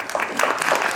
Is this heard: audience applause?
yes